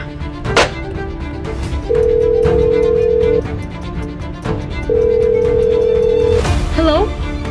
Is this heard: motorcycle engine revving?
no